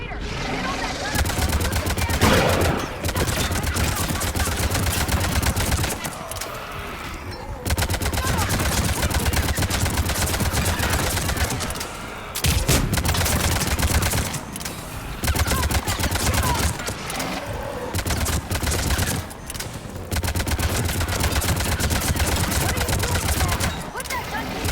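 A mounted gun in Mass Effect 3 fires long, continuous automatic bursts broken by short pauses, loud and dense throughout the stretch of combat.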